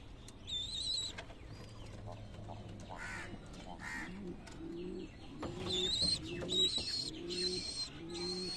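Highflyer Giribaz pigeons cooing at a home loft, soft low coos repeating in the second half amid a noisy outdoor background with other birds calling, including crow-like caws.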